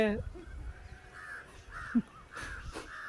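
Several crow caws ring out at moderate distance, spaced irregularly over a few seconds against faint background noise.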